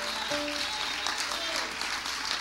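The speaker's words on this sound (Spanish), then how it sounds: "Dale un aplauso al Rey con todo tu corazón." Church congregation applauding during worship, sustained clapping from a large gathering with a voice and a held tone briefly sounding over it.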